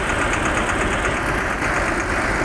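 A Massey Ferguson 5118 20HP tractor engine runs with a steady, loud, close-up mechanical drone and a continuous rough chugging throughout.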